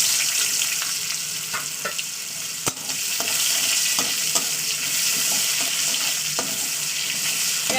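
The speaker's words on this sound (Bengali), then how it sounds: "তেলটা আমার যেহেতু গরমই ছিল খুব গরম করতে হয় না তো এবার আমি এতে পেঁয়াজটাকে দিয়ে দেবো" Chopped onion dropped into already-hot oil in a home kitchen pan, a steady loud sizzle with crackles and a sharp splash near the start, continuing alone without talk.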